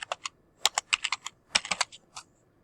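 Someone types on a Chromebook keyboard, with close, crisp keystrokes in quick irregular bursts separated by short pauses, and no talking.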